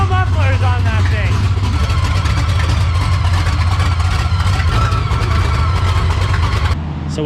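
Boosted 427 big-block in a Chevelle idling with straight headers and no mufflers, a loud, rough, lumpy rumble pulsing steadily up close while people talk over it.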